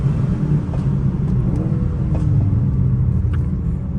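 Engine of a 2021 Mercedes-AMG A35, 330 hp, heard from inside the cabin on a night drive: a loud, steady low rumble that swells slightly as the car pulls, with no talk.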